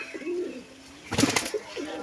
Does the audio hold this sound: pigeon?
yes